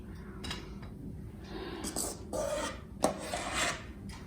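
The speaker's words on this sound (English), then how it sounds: "I'm using my offset spatula to just level it out" An offset spatula scraping and smoothing thick icing across a cake layer for a sweet potato hummingbird cake, soft rasping strokes in short uneven bursts, close and quiet.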